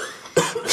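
A single sharp cough bursts out partway through amid quiet room tone in a Czech comedy scene, followed by a brief second catch of breath.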